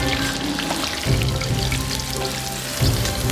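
Stuffed tofu frying in hot oil at around 150-180 degrees, a constant close crackle and sizzle, with two heavier bursts of bubbling as pieces shift in the oil.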